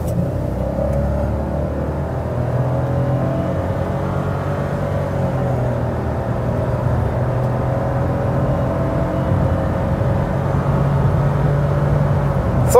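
A Fiat Strada Turbo pickup in Sport mode accelerates hard from 0 to 100 km/h, heard as a steady, loud engine rumble and road drone from inside the cabin, continuous throughout with no talking.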